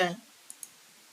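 A computer mouse clicks twice on a login button, two quick, sharp, faint clicks close together right after a voice cuts off.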